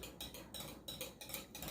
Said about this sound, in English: So you have to whisk it up